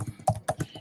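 Typing on a computer keyboard produces a quick run of soft, close key taps, about five distinct clicks in under a second, with no voices.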